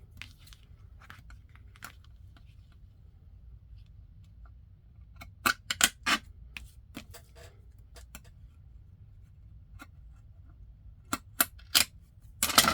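Scissors snip through paper while trimming a junk journal page: a few sparse, soft cuts, then sharp clustered snips in quick bursts, close and quiet, with no talking.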